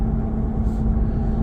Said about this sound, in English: the only thing I complain about this truck is the tire slap. The tires to me are noisy